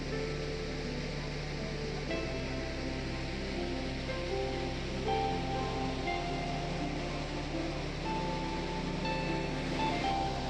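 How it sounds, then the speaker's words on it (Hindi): Dhuandhar Waterfall at Bhedaghat, where water drops about 80 feet, gives a constant broad roar of falling water, with a low steady hum running underneath. "पानी यहाँ तकरीबन 80 फीट ऊपर से बहता है।"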